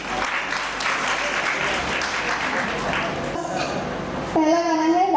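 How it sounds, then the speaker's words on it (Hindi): An audience applauds at an academic awards event, a dense, sustained wash of clapping that carries on under speech before music starts at the end. "तालियां बजते रहे तो जोश भरपूर आ जाता है।"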